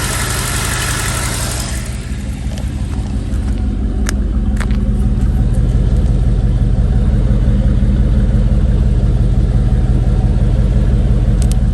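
A third-generation Chevrolet Camaro engine runs steadily at idle, a loud, close, even rumble that holds for the whole stretch, with a faint high whine from the electric cooling fan and a couple of brief clicks.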